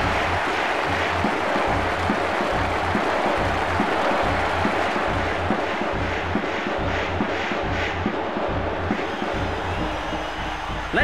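Stadium crowd cheering after a goal in International Superstar Soccer 98 on Nintendo 64, a steady loud roar of voices with a rhythmic pulsing chant running through it, easing slightly toward the end.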